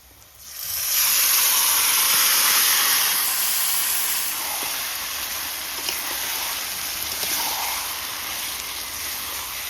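Ingredients poured into a hot wok of fried onions for biryani burst into a loud, steady sizzle that swells within the first second and continues as a broad hiss throughout, with no talking.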